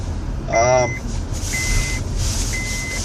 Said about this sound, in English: Seatbelt alarm, safety first, right?